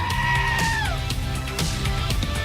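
The Screaming Goat sound effect played on a farm radio show, a loud, human-like screaming bleat that holds and then drops in pitch, with busy background noise.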